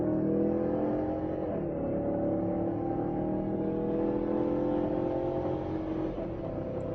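Mazda CX-9 in regular mode accelerating at full throttle from a steady 40 mph toward 75 mph, a sustained loud engine drone with rising tone and steady road and wind noise heard from inside the cabin, no talking.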